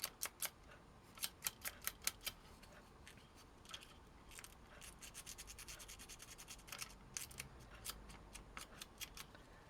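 Corrosion is scraped off the wiring of a decade-old solar LED garden light, heard as faint, close, quick scratchy strokes in irregular clusters against a quiet background, with no talk.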